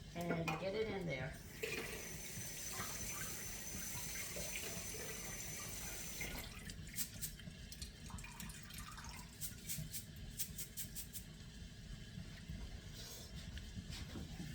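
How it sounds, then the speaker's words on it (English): Jasmine rice is rinsed under a running kitchen tap, a steady close stream of water with grains swishing and rattling against a pot or bowl throughout. "And now you're going to rinse your rice and get it in there."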